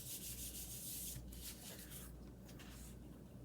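Paper card layers are rubbed firmly to press them together, a dry scratchy rubbing in repeated back-and-forth strokes, close and fairly quiet, alone without speech.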